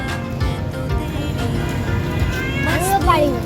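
A cat gives a short, drawn-out meow near the end, close by, while people talk continuously over a noisy background.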